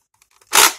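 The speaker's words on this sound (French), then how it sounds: "on tire une fois, on recharge" A single loud, close snap-and-whoosh from a Nerf blaster firing one foam dart, preceded by a few faint handling clicks and quickly fading.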